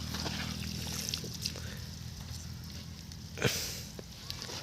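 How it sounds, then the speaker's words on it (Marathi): Irrigation water runs to an apple tree on a farm with a steady, low outdoor wash and trickle, with soft splashes and a brief louder gush midway, and a speaking voice is faintly heard. "आम्ही सफरचंदाच्या झाडाला पाणी लावलेलं आहे"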